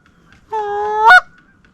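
A single loud goose-like honk from waterfowl during an opening-day waterfowl hunt, a rising call of about half a second that ends in a harsh burst, heard alone against a quiet outdoor background.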